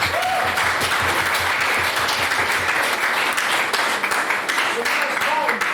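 A debate audience applauds a maiden speech with a full, dense round of clapping that fills the room steadily from start to finish, with voices murmuring faintly underneath.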